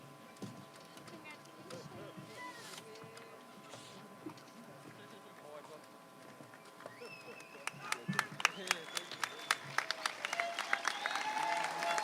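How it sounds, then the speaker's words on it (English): Audience applause at a high school commencement ceremony for a Principal's Award winner, beginning as scattered claps under murmuring voices and building into dense, sharp clapping from a nearby crowd. "A big applause for our Principal's Award winner, Johnny Acero"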